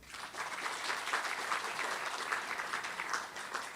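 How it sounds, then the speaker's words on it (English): An audience at a housing development stakeholder session claps steadily for two long-serving architects, a continuous, even patter of many hands heard alone at moderate distance. "I think they deserve a clap."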